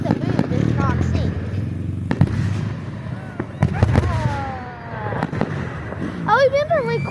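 Fourth of July fireworks boom and crackle at an outdoor show in Louisa, Kentucky, a continuous rumbling barrage under nearby people chatting.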